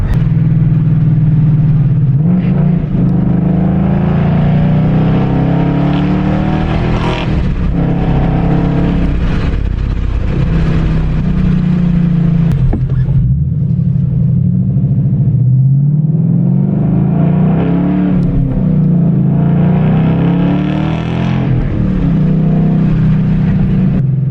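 A Ford Mustang GT's exhaust revs and rumbles loudly in a neighborhood street, with repeated throttle blips rising over a deep, steady burble and a few surging accelerations up close throughout.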